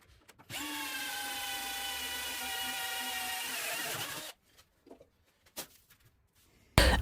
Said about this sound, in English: I'm also going to drill a hole in the top here so I can add a paracord loop